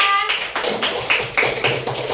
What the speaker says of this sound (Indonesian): Tepuk tangan dong untuk kelompok 2.